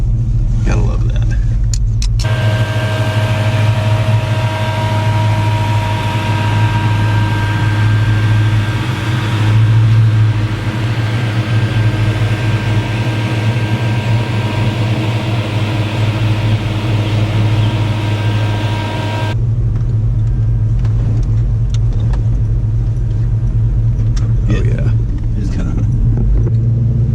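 A slammed 1986 Chevrolet Silverado C10 squarebody with a 6.0 LS V8 and Magnaflow exhaust, a steady deep droning engine rumble heard from inside the cab while cruising, loud and continuous, with a brief rise in revs partway through.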